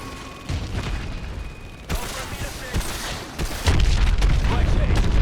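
Missile strikes and booms at a hydroelectric dam in Call of Duty: Advanced Warfare, a series of heavy explosions building louder over rumbling gunfire and engine noise, with radio voices in the mix.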